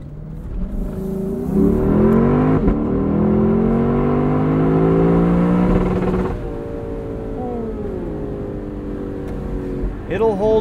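A 2021 Lexus LC 500 Convertible's engine climbs hard to its rev limiter, a loud rising howl from the cabin that peaks, then drops back to a lower drone as revs fall.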